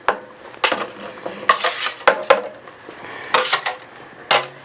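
Cooked and raw beef is stirred into a Mexican beef stew, carne guisada, in a pot, with irregular metal clanks and scrapes of a spoon against the pot between quieter wet shuffling.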